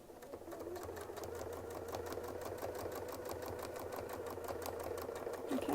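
A sewing machine stitches a quilt medallion with a steady, rapid needle rhythm and motor hum that runs continuously and close throughout.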